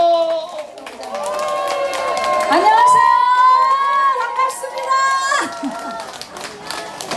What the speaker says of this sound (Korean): 우리 큰 박수와 함성이 필요할 것 같아요. 박수와 함성!